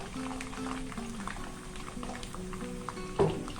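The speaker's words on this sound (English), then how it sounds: "We will pour it in. It might sputter, so we have to be careful." Preserved radish (chai por) sizzles and sputters in hot oil in a wok, a steady bubbling crackle with one sharper pop near the end.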